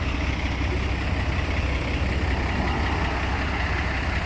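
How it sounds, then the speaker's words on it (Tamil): A boom truck's heavy diesel engine runs steadily at a low rumble beside a broken-down Mercedes-Benz Actros with a broken front wheel hub, loud and continuous with no voices. "இது பூம் ட்ரக்"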